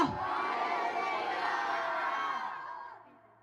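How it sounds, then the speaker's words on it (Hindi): Church congregation at a Sunday sermon shouting hallelujah together, a loud sustained crowd roar of many voices that holds steady and then fades out over the last half second. "हालेलुया, जोर से चिल्लाओ हालेलुया।"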